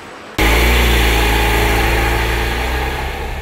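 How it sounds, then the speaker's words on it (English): Tata Nano's small rear-mounted engine running hard, a loud, steady mechanical drone that starts abruptly and stays close and constant, easing slightly toward the end, with no voices. "When the Nano's small engine is running hard, it can be quite noisy."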